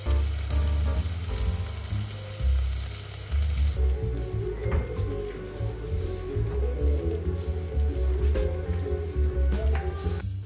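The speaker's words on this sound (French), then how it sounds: "je vais faire revenir de l'oignon, de la tomate, du persil et de l'ail" Onion, tomato, parsley and garlic fry in a pan for an Ivorian home-cooked meal, a continuous crackling sizzle with a steady low hum underneath and no voices.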